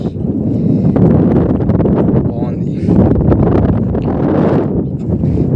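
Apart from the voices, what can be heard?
strong wind blowing at a lake viewpoint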